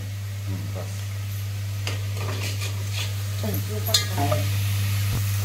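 Onion fries in a pan with a soft sizzle and occasional scrapes and clinks of stirring, all over a steady low electrical hum.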